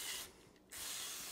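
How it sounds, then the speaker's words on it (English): A chemical cleaner is sprayed onto the bolt and parts of a Marlin Model 60 rifle. The hiss comes as a close, steady burst, then a short lull, then a second burst of spray. "I'm going to spray down the bolt."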